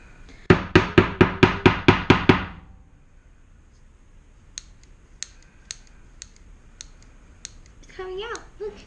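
A mini grease gun being pumped during repair gives eight sharp, evenly spaced clicks close up, then a run of fainter scattered clicks with a brief squeaky sound near the end.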